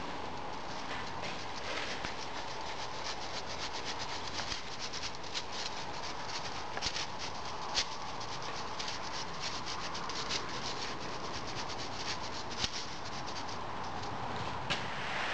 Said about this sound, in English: And now I sift on some facing sand.